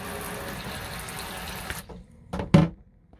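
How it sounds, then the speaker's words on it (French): A thin stream of water runs from a camper van shower for under two seconds, then stops, followed by a couple of brief splashes and knocks. "Vous voyez, ça coule"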